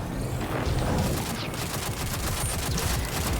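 Continuous gunfire and explosive bursts from a firefight in the video game Destiny, Grand Master Lake of Shadows strike, loud and dense throughout with no talking.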